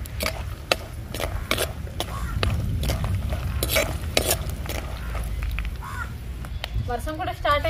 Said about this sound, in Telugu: ఒక 4-5 ఎండుమిర్చి వేసుకుందామండి.